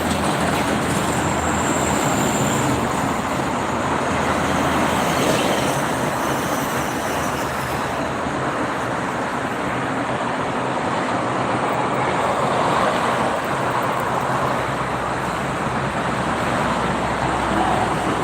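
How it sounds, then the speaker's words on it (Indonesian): Dense, continuous roar of private cars streaming along the Jakarta–Cikampek toll road on a weekend evening, a steady broadband wash of tyres and engines with no pauses and no voices. "Banyak mobil pribadi ini di malam minggu, menuju malam minggu."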